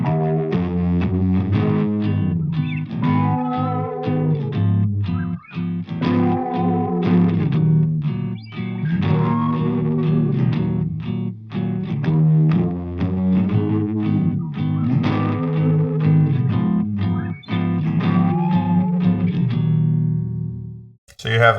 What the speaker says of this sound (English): So if I put that together with the first rhythm guitar, this is what you're hearing.